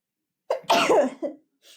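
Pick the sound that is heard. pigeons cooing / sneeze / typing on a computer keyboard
sneeze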